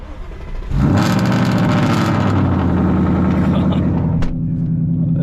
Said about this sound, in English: it sounds like a cold start every single time